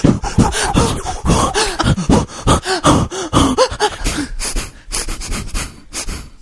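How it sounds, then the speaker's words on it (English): Heavy, rapid breathing fills the clip, a dense run of loud, rhythmic gasps and pants that thin out toward the end. "More breathing? You got it."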